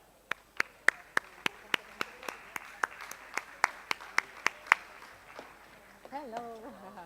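A handful of people at a conference clap sparsely and unevenly for two speakers, with distinct separate claps that thin out before a voice begins speaking near the end.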